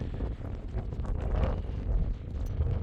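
Wind gusts across the microphone on a mountain pass road between Italy and France, a loud, low, buffeting rumble that rises and falls over the short stretch.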